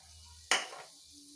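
Chili powder hits hot sesame oil in a pan with a sudden bright sizzle that flares and then fades over about a second, close and fairly loud, with no talk.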